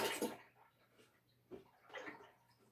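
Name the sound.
pouring milk into a pot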